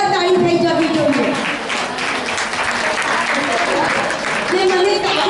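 Audience applause fills a hall at a Gujarati stage program of short plays, a steady dense clapping that holds loud and even for several seconds, with voices mixed in underneath.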